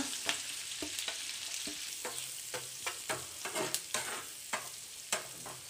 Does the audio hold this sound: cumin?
yes